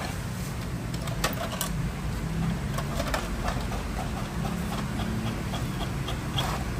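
A Brother DCP-T420W inkjet printer printing a test page, humming and whirring steadily with soft mechanical clicks and ticks as the carriage moves, moderately quiet and close.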